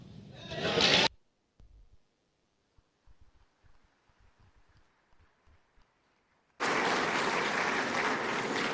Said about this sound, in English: a resounding round of applause to celebrate such a gallant